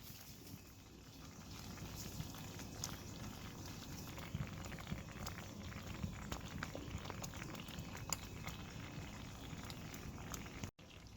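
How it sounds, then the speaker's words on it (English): A pot of Jamaican cornmeal porridge with milk simmers on the stove, giving a faint, steady bubbling hiss with soft irregular pops, quiet and continuous with no talking. "now my cornmeal is cooking for about 20 minutes"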